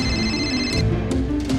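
A telephone rings with a sustained electronic tone that gives way to shorter repeated pulses, close and fairly loud over faint background noise.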